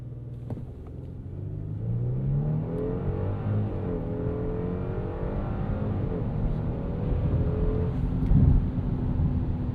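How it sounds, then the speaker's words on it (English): A 2026 Genesis G80 3.5T twin-turbo sedan in sport mode launches hard from a stop, its engine rumbling and climbing steadily in pitch through the gears, loud and continuous for about ten seconds with no talk. "let's put this back into sport and we'll see how this gets off the line in a bit of a launch"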